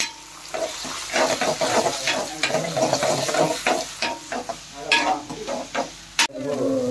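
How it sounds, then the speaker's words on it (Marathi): Chopped potatoes fry in hot oil, sizzling steadily while being stirred with irregular scraping and clinking strokes, close and fairly loud, with no one speaking. "तेलात टाकले. परतून घ्यायचे."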